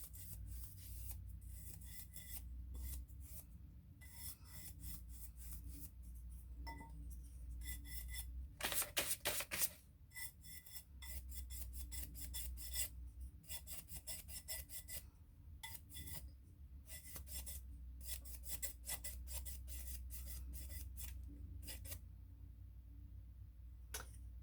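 A painted candle jar being distressed gives off repeated rough rasping strokes, close and fairly loud, in irregular bursts with short pauses over a low background hum.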